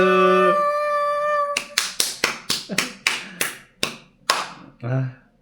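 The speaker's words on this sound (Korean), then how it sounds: "박수" Home applause after a couple thanks their subscribers: about ten sharp, separate hand claps in an uneven run, close and fairly loud, following a brief sung or hummed tone and ending with a short voiced sound.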